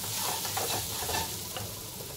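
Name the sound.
roasting a paste of garlic, chili, coriander and cumin in a pan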